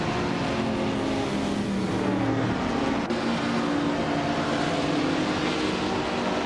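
Engines roar continuously as cars race at Eastern Creek's Brabham track in a racing video game, a dense, steady drone of motors that stays loud throughout, with one brief dip near the middle.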